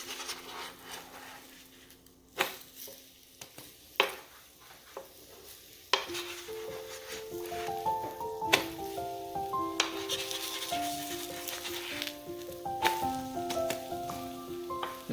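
Egg-coated bread slices frying on low flame in a pan, a steady close sizzle with a few sharp clinks of a spatula as slices are flipped one by one, no voices.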